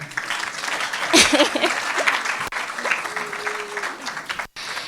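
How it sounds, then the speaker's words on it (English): Scattered audience clapping at a university science faculty workshop, moderate and close, with a brief burst then thinning claps and some murmur. "Please clap"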